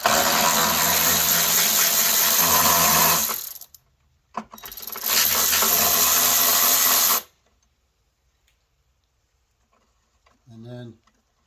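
Socket wrench loosening the car battery on a Subaru, with two long, loud, continuous bursts of rapid ratcheting close by, separated by a brief gap, then quiet followed by a short faint sound.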